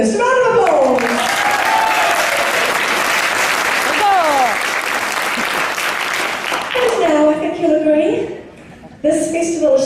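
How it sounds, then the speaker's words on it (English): At a steampunk fashion show and festival, an audience breaks into loud, sustained applause with cheering that lasts several seconds, then fades as a presenter's voice comes back over the room. "Round of applause!"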